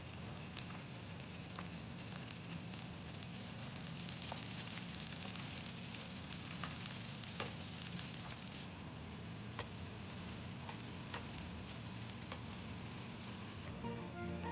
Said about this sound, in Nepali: अदुवा लसुन मजाले फ्राई भयो